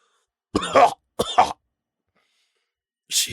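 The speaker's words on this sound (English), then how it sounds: "Jon coughed up blood." A man coughs up blood: two harsh, wet coughs close by, a pause, then a faint throaty rasp at the end.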